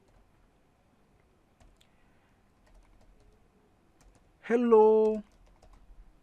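Typing on a computer keyboard for a first Python program in the Python shell: sparse, faint key taps in a quiet room, followed by a short spoken word near the end.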